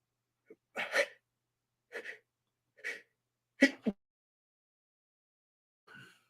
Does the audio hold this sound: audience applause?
no